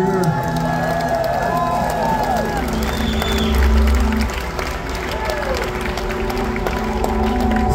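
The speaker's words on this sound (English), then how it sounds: "can we get a round of applause for a fellow named Chad Johnson" Crowd applause and cheering at a Furnace Fest 2024 concert fill the space, a steady wash of clapping with a few whoops rising over a noisy, reverberant background.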